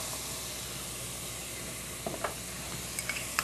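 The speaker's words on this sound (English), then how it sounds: "you keep stirring" Sweet pepper frying in butter in a pan gives a steady, faint sizzle and hiss, close by, with a few light taps of the stirring utensil toward the end and no one speaking.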